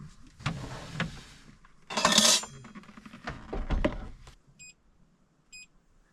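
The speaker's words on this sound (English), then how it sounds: "I'm going to get this stuff off to the side and then pull the air fryer out" Camp cooking gear being moved aside in a minivan before an air fryer is pulled out: a run of clattering, clinking knocks of pots and utensils, loudest midway, then two short high electronic beeps near the end.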